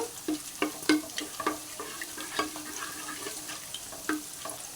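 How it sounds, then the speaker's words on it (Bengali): Whole cloves, cinnamon and cardamom sizzle in hot oil in a pan for beef biryani while a spoon stirs them, with soft scrapes and clicks over a steady light frying hiss, close and fairly quiet. "আর লবঙ্গ দিয়ে দেব, দারচিনি দিয়ে দেব, দিয়ে আমি একটু নেড়ে নেব।"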